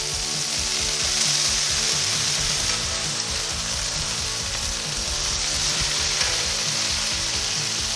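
Bacon pancakes sizzle steadily on a 28-inch Blackstone Pro flat-top griddle after being flipped, a continuous broadband frying hiss with low rumbling underneath, loud and close with no talking.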